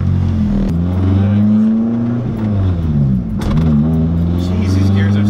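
Supercharged Honda S2000 engine pulling hard under acceleration through short gears, a loud close drone that rises in pitch, dips briefly at a shift, then climbs again.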